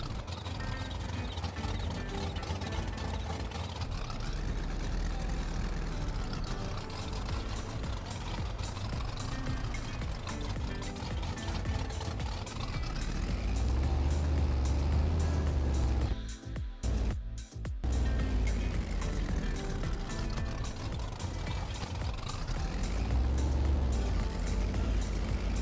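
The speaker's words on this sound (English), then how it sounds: "It's like an old carbureted engine with a cam." Old carbureted truck engine with a cam idling loudly in Farming Simulator 22, a steady rough low rumble that lasts throughout, with a brief dip partway through before it resumes.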